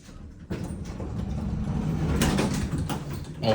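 Hydraulic elevator in a college art building arriving, a low steady rumble of the car and doors sliding open with light clunks, no talking.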